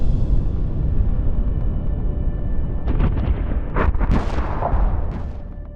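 Bombardment explosions from an airstrike on the Al Furqan area in war news footage, a constant low rumble broken by several sharp bursts in the latter half, loud and close.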